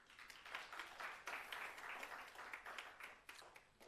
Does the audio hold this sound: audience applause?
yes